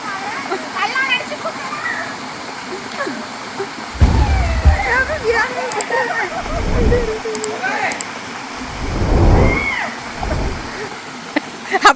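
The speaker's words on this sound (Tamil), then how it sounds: "தண்ணி நிறைய விழுது" Steady roar of Kaluthuruti Waterfall pouring heavily nearby, with bursts of louder splashing and people talking over the rushing water.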